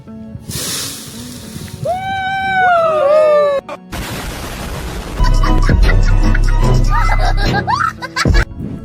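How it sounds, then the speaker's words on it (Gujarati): Water poured into a pan of hot melted candle wax sets off a sudden loud hissing, sputtering burst that continues for several seconds, after a stretch of voices and whistle-like tones. "તો આપણે એમાં એક્સપેરિમેન્ટ કરવા માટે નાખશું પાણી."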